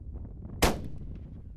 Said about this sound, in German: Ein einziger Schuss in den Kopf tötet das Tier.